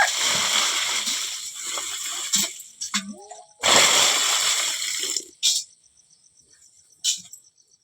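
Water splashing and running into a container at a home kitchen tap, heard in several short bursts of gushing and splatter separated by near-silent pauses, with faint drips and background insect chirping.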